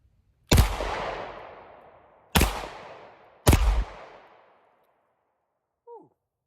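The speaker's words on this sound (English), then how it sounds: "I'm shooting low and to the right." Three loud rifle shots from a Bear Creek Arsenal Grizzly fired on a range, the first two spaced apart and the third soon after, each with a long echoing decay, followed by a faint brief sound.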